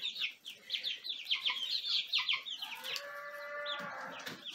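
Barred Rock chickens cluck and chatter in a busy flock, overlapping calls close by, with a drawn-out squawk near the end.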